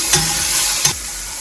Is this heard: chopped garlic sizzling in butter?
yes